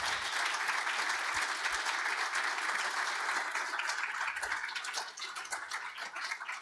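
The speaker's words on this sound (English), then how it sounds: "would you thank them with a round of applause finally" Steady applause from an audience at an academic talk on digital curation, dense clapping throughout that tapers slightly toward the end, with no speech over it.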